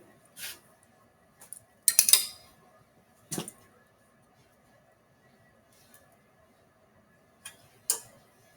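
A handful of sharp metallic clanks and clinks from a metal bender folding sheet metal into a tray, spaced irregularly across otherwise quiet shop air, close and fairly loud, with no speech.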